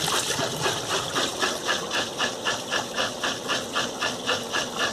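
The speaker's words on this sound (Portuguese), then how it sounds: "Essa continua sugando a água. Essa tá drenando ainda." An Electrolux or Brastemp washing machine pumping out water, a steady hiss and gurgle pulsing in a regular rhythm of about three surges per second, close and continuous with no talk.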